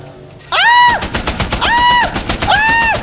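A turret machine gun fires in a video game, in three separate bursts of rapid rattling shots. Each burst has a rising and falling whine laid over it, loud and close, with no talking.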